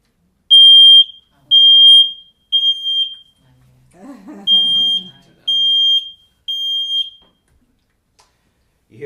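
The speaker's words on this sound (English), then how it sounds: "You hear the beeping of your smoke alarm." A smoke alarm sounds in loud, shrill beeps, three short bursts, a pause with a voice, then three more, evenly spaced.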